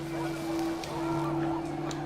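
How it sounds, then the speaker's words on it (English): Panicked geese honk in the video game What Remains of Edith Finch, a short burst of nasal honks over a steady low hum, close and fairly loud, with no talking. "And panicked geese appeared and quickly went."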